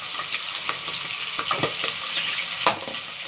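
Meat dropped into hot oil sizzles and crackles steadily, with a few sharper spatters and stirring scrapes rising above the constant frying hiss, close and fairly loud, with no talking.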